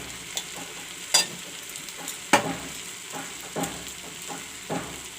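Moong dal with salt and turmeric powder being stirred in a pan, a soft continuous sizzle broken by several sharp scraping clinks of the spoon against the pan at irregular intervals.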